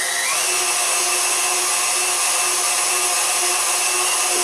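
Small meat grinder fitted with a smaller die grinding deer meat for homemade jerky, a steady high-pitched motor whine running loud and unbroken throughout.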